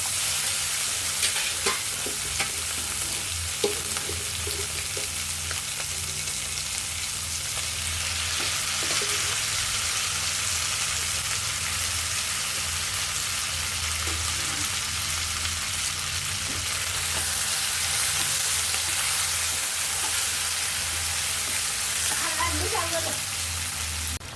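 Beef fries in a pan for a beef curry with elephant foot yam, with a loud, continuous sizzle. Stirring scrapes and clinks sound over it close up throughout.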